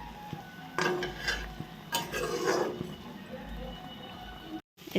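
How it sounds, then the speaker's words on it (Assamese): Goat meat is fried and stirred in a pot, with metal scraping and clanks of a utensil against the pot in irregular bursts over a low background sizzle, close by, and a brief dropout near the end. "এতিয়া পুৰা মই মাংসখিনি ভাজি আছো"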